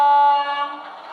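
A single loud horn blast from an OO gauge model train sounds with a bright, steady multi-tone chord, then fades out over about a second.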